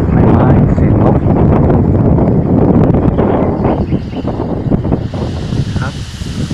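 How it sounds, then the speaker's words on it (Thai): Strong wind gusts roar steadily outdoors among trees, with the noise rising and falling as branches and leaves are shaken; a brighter rushing hiss builds toward the end. "ได้ยินไหมครับเสียงลม"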